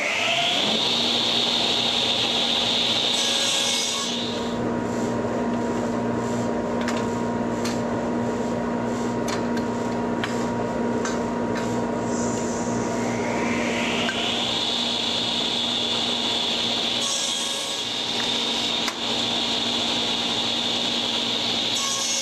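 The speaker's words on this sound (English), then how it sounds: "we're going to take our stock and cut the first end off the edge" A Shopsmith table saw with its miter gauge cuts wood stock into segments: the motor whines up, drones steadily through a long rough cut, then spins down and rises again, loud and close.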